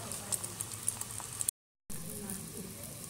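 An egg frying in a pan, cooked past half-fried, gives a steady soft sizzle with light crackles and pops, fairly quiet, with a short dropout in the middle.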